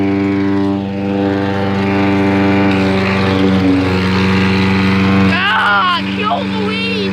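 A loud lawn mower cutting through weeds, its engine droning steadily with a strong low hum and harmonics, while a person shouts and yelps over it toward the end.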